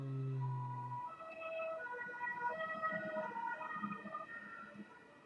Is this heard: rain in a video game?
no